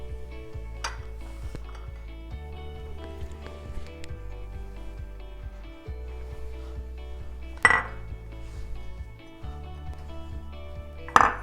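Egg sandwich ingredients are mixed in a bowl with a utensil, giving soft repeated clinks and taps plus a few sharper knocks against the bowl. The sounds are fairly quiet and close.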